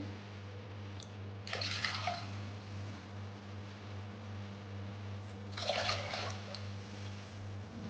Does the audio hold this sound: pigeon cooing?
no